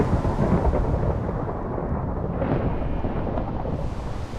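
Rain begins in Minecraft with a steady, dense downpour and a deep rolling thunder rumble swelling in the middle, loud and continuous with no voices.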